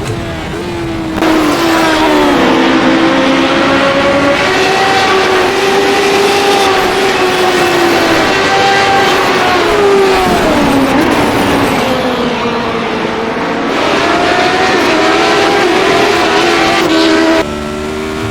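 Radical SR8 race car engine screaming around Bathurst's Mount Panorama in the iRacing sim, loud high-revving note climbing and dropping through gear changes and braking, continuous and alone.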